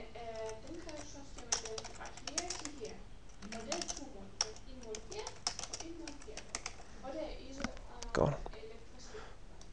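Quick keystrokes on a computer keyboard while a value is entered during a physics calculation, a busy stream of close clicking taps with a louder knock near the end.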